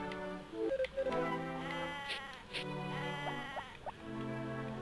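Sheep in Harvest Moon: Friends of Mineral Town give several loud, close bleats, wavering and drawn-out, one overlapping another in game-audio clarity, with no voices.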